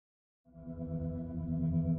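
A sound-design synthesizer pad from a Soundiron instrument library swells in after a moment of silence, a rich, chorused, sustained tone that grows gradually louder.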